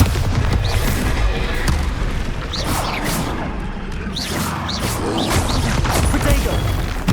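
Confringo and Bombarda explosion spells go off during a Hogwarts Legacy battle: repeated booms, crashes and whooshing blasts over a constant loud rumble of combat, with no gaps between them.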